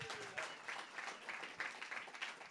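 Faint, distant applause from an audience for a speaker at an event: a soft continuous patter of many hands clapping, low in level and brief.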